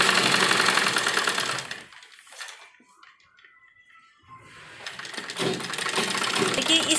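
Sewing machine stitching a folded hem on frock fabric, a loud steady whirring run that stops for a quiet pause of about two seconds and then starts up again.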